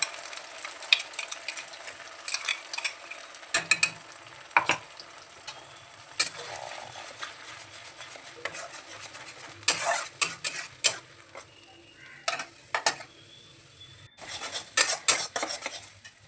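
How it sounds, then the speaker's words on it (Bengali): Cauliflower stalk paste being stirred in hot oil, with repeated sharp scrapes and clinks of a utensil against the pan over a soft, steady sizzle, heard close and without any talking. "এবার এই তেলের মধ্যেই আমি দিয়ে দিচ্ছি ফুলকপির ডাঁটার বাটাটা, দিয়ে বেশ ভালো করে আমি নাড়াচাড়া করে নেবো।"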